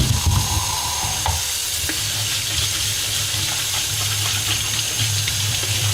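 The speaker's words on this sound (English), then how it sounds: "little more water running there." Water runs from a tap into a sink while paint brushes are scrubbed clean, a steady splashing hiss with soft scraping and clinking, close by and without talk.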